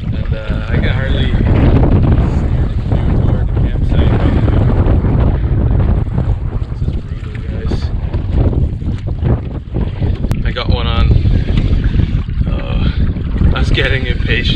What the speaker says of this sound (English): the wind is back